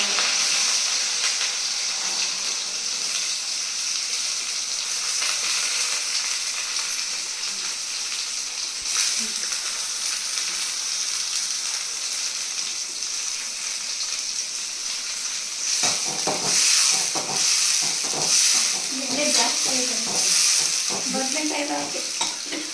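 Onions and green chillies fry in hot oil with a steady, close, bright sizzle. Stirring scrapes and clatters grow busier toward the end.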